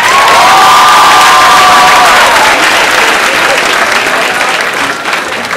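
A loud, excited crowd of young people claps and cheers for Anna at a Purim school show, with a long sustained shout or whistle over the applause at first, then dense clapping that slowly thins.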